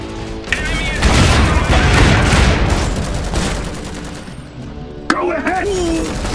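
Bursts of rifle fire and rattling machine guns pour out loud and dense in the Iron Harvest strategy game, dying down toward the end as voiced unit callouts break in over the shooting.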